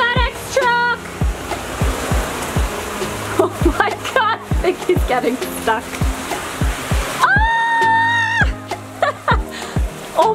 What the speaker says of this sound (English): So this rainstorm is kicking the last flash flood rainstorm.